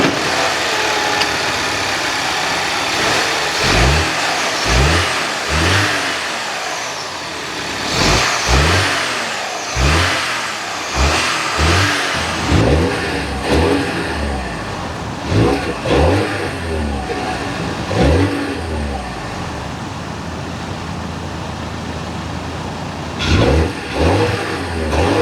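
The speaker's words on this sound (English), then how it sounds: "Under the hood is the 2-liter twin-power turbocharged inline-4" Turbocharged 2-liter inline-4 of a 2026 BMW X2 SUV revving repeatedly in short loud bursts with idle between, close and alone, a final pair of revs near the end.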